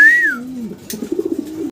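Young fancy pigeons call loudly and close by, with a rising tonal note followed by a low warbling coo that pulses for about a second before stopping abruptly.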